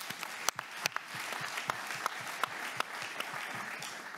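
Audience applause at the opening of an economic inclusion summit, a steady wash of many hands clapping in a hall with a few sharper nearby claps standing out, sustained throughout.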